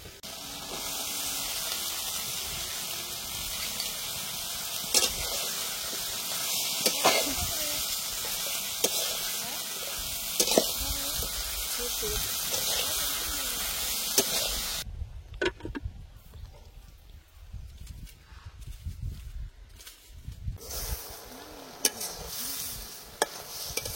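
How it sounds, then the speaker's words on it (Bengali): Washed cauliflower and flat beans fry in a spiced masala, a steady broadband sizzle with occasional stirring clatter that thins out briefly midway before resuming, while a voice talks intermittently over the cooking. "এখন ধুয়ে রাখা ফুলকপি সিম দিয়ে দিব।"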